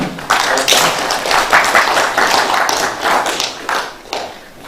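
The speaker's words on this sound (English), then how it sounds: "let's clap again for Professor Abi" A crowd applauds, a dense patter of many hands clapping at a steady level that tapers slightly toward the end.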